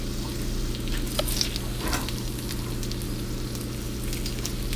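Onion sizzling in a hot teppanyaki pan, a soft continuous crackle and patter with a few brighter pops early on, fairly quiet and close.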